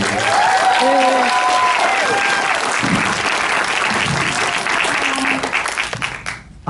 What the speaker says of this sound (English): Please give a round of applause for Jane Espenson.